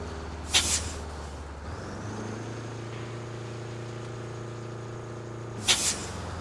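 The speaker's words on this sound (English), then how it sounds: "Why is the air brake hiss so loud?" In the video game RoadCraft, two loud, sharp truck air brake hisses burst out a few seconds apart over a steady low truck engine rumble.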